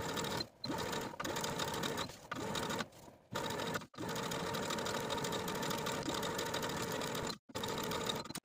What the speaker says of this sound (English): Now I'm going to take it to my sewing machine and edge stitch close to those serging stitches